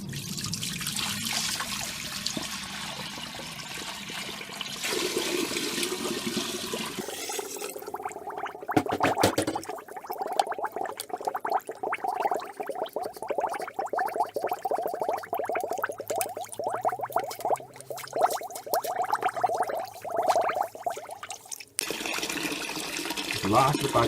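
Rinse water drains from a Carpigiani 141 ice cream machine into a bucket, a steady trickling flow lasting most of the stretch, with a brief talking voice partway through.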